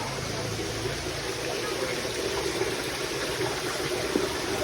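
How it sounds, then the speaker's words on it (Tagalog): Water circulating in a catfish pond, a steady rushing, trickling flow running continuously at moderate loudness, with faint low mechanical hum beneath. "maganda kung umiikot yung tubig"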